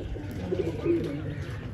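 Pigeons cooing briefly in a village setting, a soft low coo heard over faint background noise.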